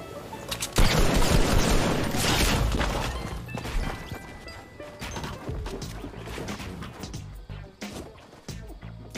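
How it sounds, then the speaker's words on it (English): Hunting rifle shot in Fortnite: one loud, sudden blast near the start, followed by a crashing, decaying rumble and scattered game noise, with no talking. "182-meter hunting rifle shot."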